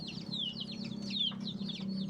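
Chickens treated for a respiratory illness cluck in short, high chirping bursts, close and fairly faint over a steady low hum.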